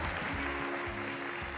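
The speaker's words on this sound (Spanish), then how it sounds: "Voy a pedir" Quiet ongoing clapping from an audience at a village beauty contest gala final, even and continuous, with a low hum and faint voices beneath.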